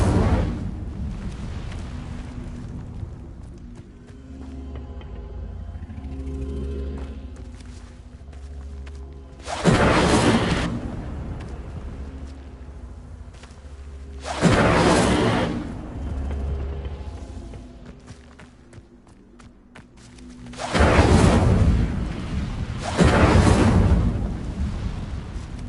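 The Incendio fire spell is cast repeatedly in Hogwarts Legacy, loud roaring fiery bursts erupting at intervals among quieter rumbling ambience and game music.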